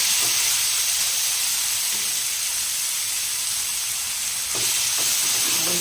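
Chopped fenugreek leaves and green garlic stirring in hot oil for a methi besan curry, giving a steady close sizzling hiss with a few soft scraping stirs near the end.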